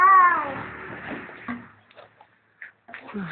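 A cat gives one loud, close meow with a falling pitch, followed by quieter rustling and a few soft, scattered sounds.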